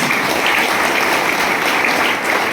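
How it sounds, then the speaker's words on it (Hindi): Loud, dense applause from an audience at a wellness product presentation, steady and sustained throughout without a break. "एक बार एलिमेंट वेलनेस के लिए जोरदार ताली।"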